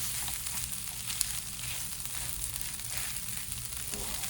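Cracked wheat and gongura chutney get mixed in a still-hot kadai with the flame off, giving a soft, even, steady sizzle and faint stirring scrape, up close and fairly quiet.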